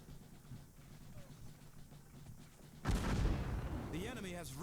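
Grenadiers' grenades explode against a building in the Cossacks 2 strategy game: faint scattered battle pops, then one sudden loud blast with a crackling rumble, followed by swooping synthetic tones.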